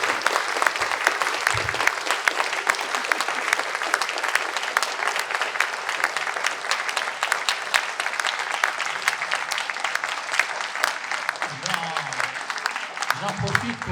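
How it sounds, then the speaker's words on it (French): An audience at a theology debate gives sustained applause, many hands clapping at once in a dense, even roar that holds steady for about fourteen seconds, with a few voices at the very start and end. "je vous invite à offrir à nos deux intervenants un tonnerre d'applaudissements pour cet extraordinaire débat."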